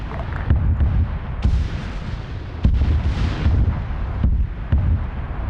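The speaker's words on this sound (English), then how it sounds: "Oh, rocket artillery." Rocket artillery fire in a US-versus-Russia tank and IFV battle video game: a rapid series of heavy, booming blasts and rumbling impacts, loud and repeated across the whole stretch.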